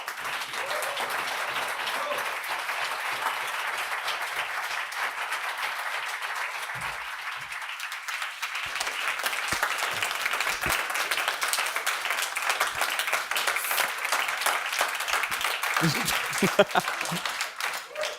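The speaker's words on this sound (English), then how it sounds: "The applause speaks for itself." An audience at an LGBTIQ rights outreach event breaks into sustained applause, a dense wash of clapping that carries on for the whole stretch, with a few brief voices and bumps near the end.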